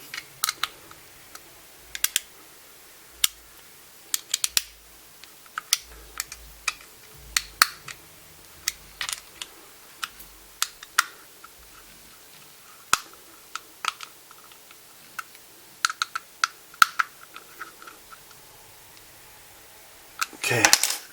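Small sharp metallic clicks and ticks sound sporadically and close by as screws are tightened on an Umarex T.A.C. converter, separated by quiet pauses, with a louder rustle at the end.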